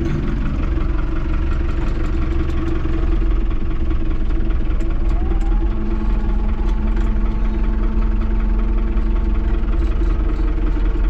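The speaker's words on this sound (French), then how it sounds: "j'ai un tracteur derrière moi aussi" A heavy diesel tractor engine idles close by with a steady, throbbing rumble and faint knocking that continues unchanged throughout, with no talking.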